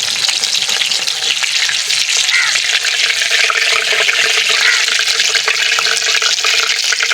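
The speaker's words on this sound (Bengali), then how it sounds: "কাটলেটগুলো উল্টে পাল্টে ভালো করে ভেজে নিয়েছি।" Chicken mince cutlets frying in hot oil in a pan, a loud, dense, continuous crackling sizzle that holds steady throughout with no pauses and no voices.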